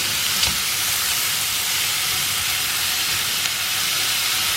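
Sliced mushrooms sauté in a wide pan, giving a steady, even hiss of frying that stays close and constant throughout, with no voices.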